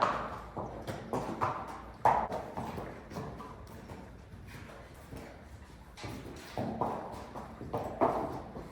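A horse being worked on driving reins walks with a steady, close clip-clop of hooves on firm ground, the rhythm continuing throughout with no talking.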